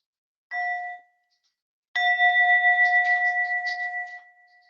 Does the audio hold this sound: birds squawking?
no